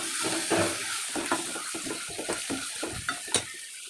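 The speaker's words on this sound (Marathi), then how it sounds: "कांदा टाकून झाल्यानंतर याला हलवून घ्यायचं मस्त." Chopped onions sizzle in a hot pan as a spatula stirs them, with repeated close scraping strokes over a continuous frying hiss.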